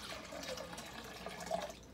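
A cup of water poured into pineapple juice in a blender jug, a soft, faint splashing trickle that rises slightly near the end, heard alone at close range.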